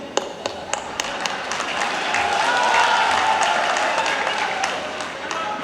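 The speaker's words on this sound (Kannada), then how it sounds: "ಅದಕ್ಕೂ ಚಪ್ಪಾಳೆ ತಟ್ಟೋದು" Audience at a political rally in Mangaluru applauding: a steady wash of many hands clapping that swells in the middle and tapers, with a few sharper claps standing out near the start.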